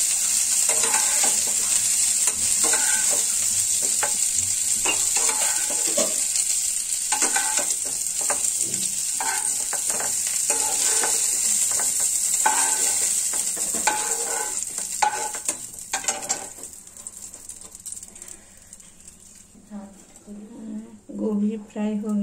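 Fried cauliflower stirred in a pan, a steady sizzle with repeated scraping and stirring strokes, close and loud, quieting near the end while someone speaks.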